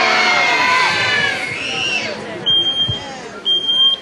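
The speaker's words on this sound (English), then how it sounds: "has everyone got a smoke alarm?" At a fire safety demonstration during a jubilee picnic, a smoke alarm's test button is pressed and the alarm sounds in shrill high-pitched bursts over a noisy, cheering crowd of adults and shouting children.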